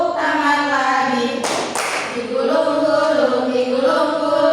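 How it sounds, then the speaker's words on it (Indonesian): A few quick hand claps from children in a classroom action song, a short burst of two claps standing out against a steady sung or chanted voice that carries on throughout. "tutup, tepuk tangan lagi."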